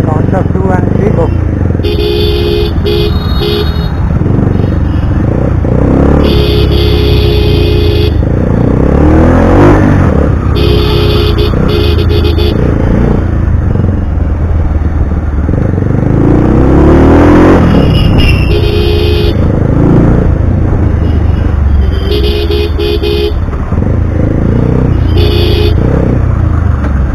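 A Bajaj Pulsar 180 motorcycle bored out to 220 cc and fitted with an SC Project exhaust, ridden on the road with a loud continuous engine drone, rising and falling revs and repeated horn toots, with voices and wind over it.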